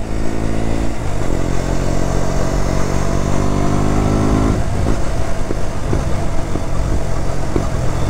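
KTM Duke motorcycle engine, warmed up, idling with a steady loud throb and then blipping through revs, with a few sharp popping backfires near the end, close and without talk.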